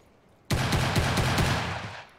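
A Guycot carbine in a Wild West game fires a fast, continuous burst of about a second and a half, loud and close, with rapid rattling shots that trail off abruptly.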